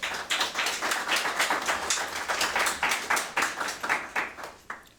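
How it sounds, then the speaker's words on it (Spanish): Church congregation clapping along in a steady, fairly quick rhythm, a dense run of distinct claps sustained for about five seconds with no voices over it. "Dale un aplauso al Señor."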